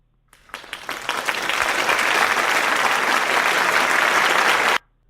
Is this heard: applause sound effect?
yes